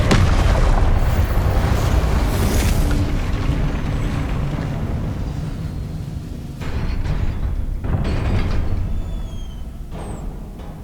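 Confringo spell blasts in the game Hogwarts Legacy, a loud, dense rumble of explosive booms that stays steady and heavy throughout, with a few sharper cracks later on.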